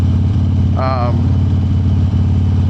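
A Harley-Davidson Dyna motorcycle engine runs loud and close with a steady rumbling throb, stumbling slightly around 2,000 to 2,500 rpm. A short rising whine cuts in partway through.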